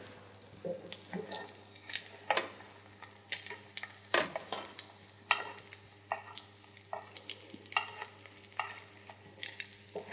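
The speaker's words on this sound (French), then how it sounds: "Et on vient continuer à arroser le poisson." A fish fillet sizzles in a pan as hot fat is spooned over it repeatedly, producing a bed of frying crackle broken by irregular splashing bursts and soft spoon clinks.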